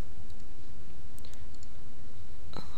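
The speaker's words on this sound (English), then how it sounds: "Just press the Control Delete and Shift button on your keyboard." A computer keyboard gives a few sparse, sharp clicks, with two close together in the middle and one near the end, over a quiet background hiss with no talking.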